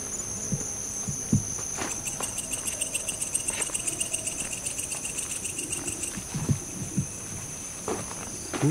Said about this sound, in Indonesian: Suara jangkrik.